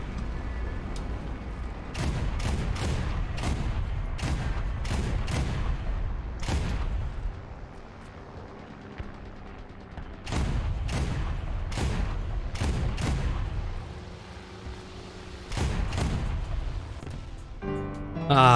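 Tank cannon fire in a World of Tanks style video game, with a series of sharp, booming shots in irregular bursts, some closely spaced, echoing over a steady engine and battle rumble.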